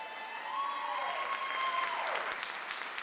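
Crowd at a school district awards ceremony claps for an administrator award winner; a continuous, moderately loud round of applause runs throughout with a faint tone underneath and a few scattered cheers.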